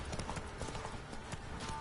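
Horse hooves clip-clop steadily at a trot in The Witcher 3, close and continuous, over a busy game soundscape of other noises.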